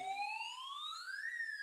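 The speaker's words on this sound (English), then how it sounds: "we're going to sound the siren" A siren sound effect played on a stream, one clean electronic wail that climbs steadily in pitch, peaks and then begins to fall, clear and alone with no talk over it.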